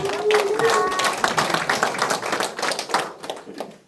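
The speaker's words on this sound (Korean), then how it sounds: "다시 한번 박수 부탁드리겠습니다." Scattered hand clapping from a small crowd at a Korean committee launch ceremony, rapid and uneven, fading slightly toward the end.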